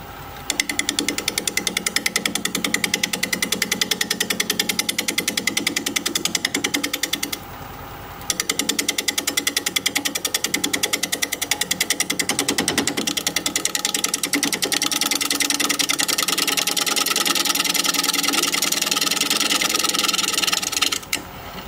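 Wood lathe spinning a black walnut bowl at 600 RPM while a 5/8 inch bowl gouge cuts, giving a loud, continuous rough grinding roar that drops out briefly partway through and then resumes steadily.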